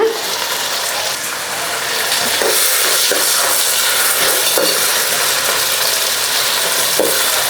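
Chopped tomatoes sauté in a hot pan for a coconut milk fish gravy, giving a loud, steady sizzle with occasional stirring scrapes and bursts of steam.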